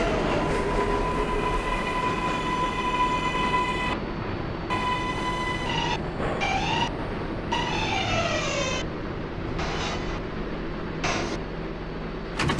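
R142A New York subway 6 train bound for Brooklyn Bridge, running from 103rd Street toward 96th Street: loud steady rumble with tonal motor whines that hold, then sweep and drop repeatedly as the train changes speed.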